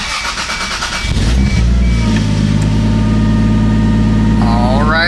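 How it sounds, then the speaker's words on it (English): A Toyota Supra fitted with an ECUMaster engine control unit cranks and fires up after being switched off, then settles into a loud, steady idle close by, with a brief rising whine near the end. "Let's turn the car off here and see what happens when we go to restart it."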